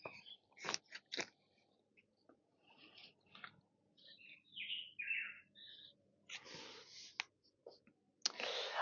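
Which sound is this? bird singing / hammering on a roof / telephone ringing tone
bird singing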